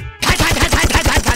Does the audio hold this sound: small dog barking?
no